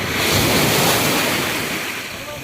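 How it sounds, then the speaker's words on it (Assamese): Sea waves wash ashore at Mahabalipuram beach in a loud, close surge of rushing surf that swells and then slowly recedes, with wind buffeting the microphone. "পানী আহি আছে সাগৰৰ পানী আহি আছে"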